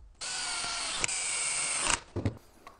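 A loud, steady whine of a power drill running for nearly two seconds while building a DIY router lift, then stopping, followed by a few short clunks and bursts.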